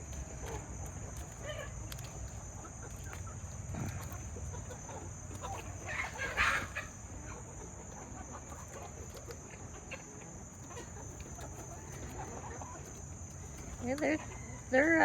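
Backyard chickens clucking softly while pecking at a cabbage hung on a rope, faint scattered clucks over a steady insect-like hiss.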